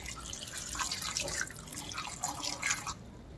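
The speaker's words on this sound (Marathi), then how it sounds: "दोन ग्लास पाणी घालून घ्यायचं आहे" Two glasses of water poured over chopped vegetables in a pot for a no-oil tomato soup, a steady splashing trickle with dripping that runs close and continuous before easing off near the end.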